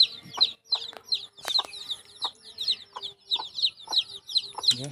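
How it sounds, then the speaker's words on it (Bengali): Native desi chickens cluck in a steady, rapid series of high calls close by, with no one talking. "দেশি মুরগির সেট যে এখানে চার পাঁচ দিন আগে একটা মুরগি ফুটে বেরিয়েছে"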